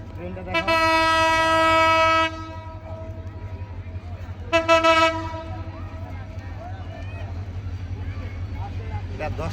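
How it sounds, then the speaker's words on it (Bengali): An intercity express train arriving at a station blows two loud, sustained horn blasts, the first about two seconds long and the second shorter, over a steady low rumble of rolling cars with people talking nearby. "ওই যে ট্রেন চলে আসছে"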